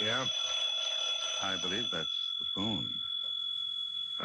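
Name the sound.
telephone ringing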